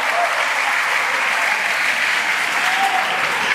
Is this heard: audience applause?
yes